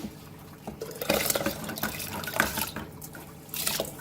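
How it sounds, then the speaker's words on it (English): Water poured from a tap into a pot of dal for cooking a Goan varan bhaat, a broad splashing and gurgling stream that rises and falls, close and fairly loud with no talking. "And you can add boiling water or you can add normal water."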